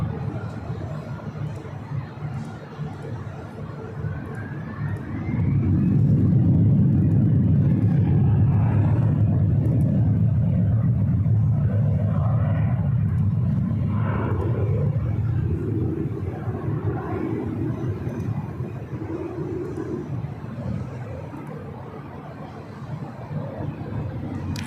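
A jet airliner takes off from runway 24 left at LAX: a heavy low engine rumble swells after a few seconds and holds steady and loud through most of the roll before easing slightly at the end.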